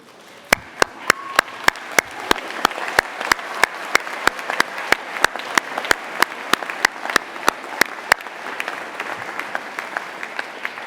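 Graduands standing to applaud their invited guests at a graduation, a crowd clapping steadily with some sharp individual claps near the front, fading slightly toward the end.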